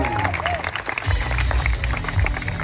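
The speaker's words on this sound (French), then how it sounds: "j'invite tout le public à prendre sa main droite et sa main gauche et d'applaudir bien fort notre duo Ulises et Eduardo" A spectator crowd applauds a high-diving duo at an amusement park extreme diving show at Walibi Rhône-Alpes, a broad clapping roar mixed with cheering and heavy low background music, a voice briefly audible early on.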